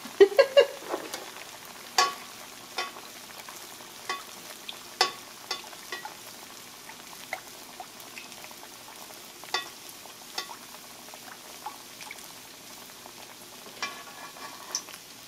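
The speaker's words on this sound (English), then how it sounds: "let's get to frying" Hot Cheetos-coated corn dogs frying in oil: a soft, continuous sizzle with scattered sharp pops and crackles, quiet and close, with no talking.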